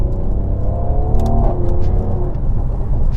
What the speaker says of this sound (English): Wow, just listen to the exhaust.